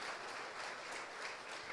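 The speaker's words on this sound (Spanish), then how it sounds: "Dale un aplauso al Rey de Reyes y Señor de Señores." Church congregation clapping during a Christian service, a steady, dense wash of applause that stays faint and distant throughout.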